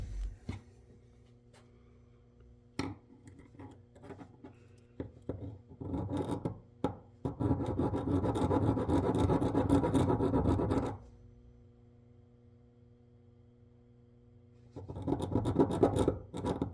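Steady rasping of a hand file on a piston ring end for a 2019 KTM 300 XC-W Six Days two-stroke dirt bike, a few short scrapes building to a sustained burst of filing, then quiet before more filing resumes.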